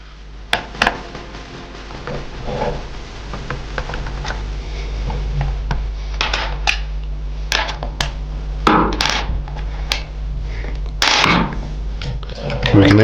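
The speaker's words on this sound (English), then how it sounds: "We're going to use our Phillips head screwdriver to remove these 4 screws here." Phillips head screwdriver backing four screws out of the underside of a motorcycle fender on a 2024 Yamaha MT-09, close scattered clicks and scraping ticks over a low steady hum.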